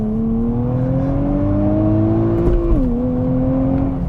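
A 2023 Nissan Z with manual clutch launching from 0 to 60, engine drone climbing steadily in pitch, then a brief dip at a gear shift before pulling again, loud and close from inside the cabin.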